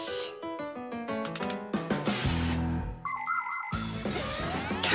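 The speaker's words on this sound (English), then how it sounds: "Come and check out our Fixie ringtone." A cheerful cartoon phone ringtone from The Fixies plays alone, made of bright chiming and bell-like melodic notes that shift through several quick musical phrases.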